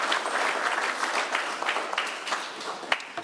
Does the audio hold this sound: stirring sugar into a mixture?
no